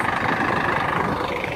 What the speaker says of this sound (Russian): Это наш автобус.